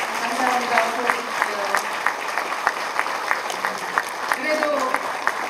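A crowd applauds at the inauguration ceremony of an education superintendent in North Jeolla Province, steady moderate clapping from many hands over 5 seconds, with a voice speaking faintly underneath at times.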